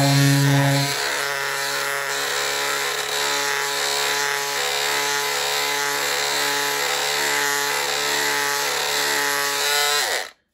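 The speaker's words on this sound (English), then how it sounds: "that's pretty much how it works, the sander function of it" A Parkside cordless multi-purpose tool sands at speed 3, giving a loud, steady motor whine with strong vibration, starting abruptly and running continuously for about ten seconds before cutting off.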